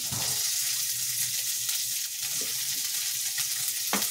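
Green chilli paste frying in a pan while making khara kadubu, a steady close sizzle with occasional stirring scrapes and clicks.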